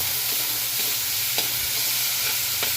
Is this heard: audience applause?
no